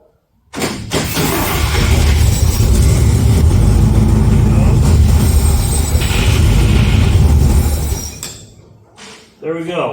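An International C100 short bed classic truck engine fires up and runs loud and rough for about eight seconds, then cuts out, with a voice talking near the end.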